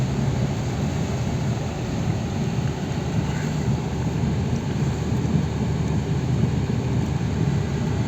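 Steady, dense rush of heavy rain pouring down on asphalt in Gdańsk without a break, loud and close, with a low rumbling wash underneath.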